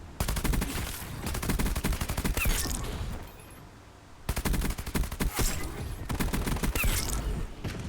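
Sustained bursts of automatic rifle fire crackle through a multiplayer gunfight in Black Ops 7, dropping briefly to a lull before the shooting picks back up.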